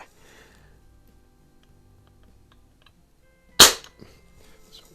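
A Crosman 2240 air pistol fires once over a chronograph, a single sharp crack standing alone after a few seconds of quiet room background.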